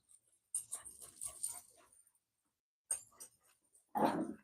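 Dogs, including a puppy, play roughly, with close bursts of growling, snuffling and whimpering in three separate flurries broken by short silences.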